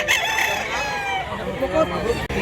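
Many gamefowl roosters crow at a market in Mantalungon, Cebu, with several overlapping drawn-out calls from close and farther off, fairly loud, some clucking mixed in.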